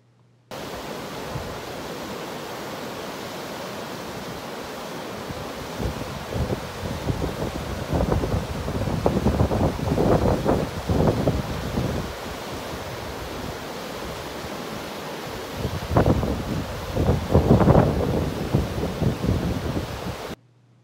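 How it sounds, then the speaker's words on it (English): A waterfall and wind in Yosemite make a steady, full rushing roar throughout, swelling with gusty surges in the middle and again near the end, with no voices. "the sound of the wind and the sound of the water"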